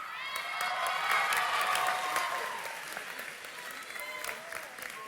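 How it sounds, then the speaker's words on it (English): A graduation ceremony crowd breaks into warm applause with some cheering and high excited voices, swelling early and then easing off. "Let's have another little round of applause for Jaclyn Marston."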